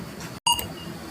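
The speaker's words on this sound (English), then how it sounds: "One of these has the little checkout beeping sound." A short electronic beep chirps once from a supermarket checkout scanner over a low hum of store ambience, then the background murmur carries on.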